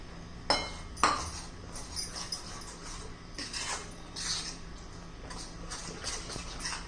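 A spoon stirs mango rava cake batter made with semolina and milk in a bowl, giving faint clinks against the side, two sharper taps near the start, and soft scraping strokes throughout.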